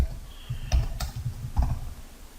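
Several sharp, quick clicks of a computer mouse, spaced unevenly over a couple of seconds, close against quiet room noise.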